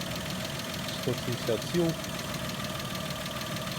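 A Toyota 1G-FE Beams two-litre VVT-i engine idles steadily, with a fast, light clicking mixed into the running noise from the end of the motor, while someone talks briefly over it.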